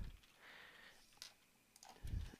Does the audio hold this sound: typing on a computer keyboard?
yes